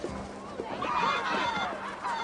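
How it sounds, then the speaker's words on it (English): Fighting roosters squawk and honk in a rowdy, fowl-like chorus in the video game Assassin's Creed Valhalla, the calls rising and overlapping over a steady game-world ambience, fairly close and moderately loud. "You mean Hemminger's famous fighting roosters?"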